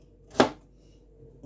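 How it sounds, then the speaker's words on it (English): A single knife chop through sweet potato while dicing it for Jamaican-style sweet potato pudding, one sharp close cut standing out against a quiet kitchen. "Dicing up off the sweet potato."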